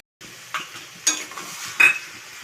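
Bottle gourd and prawn curry is stirred in a pan, a spoon scraping and clinking in three distinct strokes over a faint sizzle, close and without talk.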